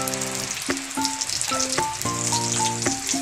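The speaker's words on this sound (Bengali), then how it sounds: "কড়াইয়ের ভিতর দিয়ে দেব আমি এক চামচ মতন ঘি।" Ghee heats in a hot wok with a loud, close sizzle. Sharp clinks from a spoon or utensil ring out several times over the frying hiss, and no one talks.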